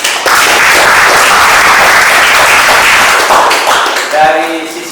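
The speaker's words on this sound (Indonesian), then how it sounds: "Tepuk tangan dulu" Audience applause after a call to clap at a presentation on charging batteries with rented power banks, a dense, loud wash of many hands sustained for about four seconds before tapering off into a voice.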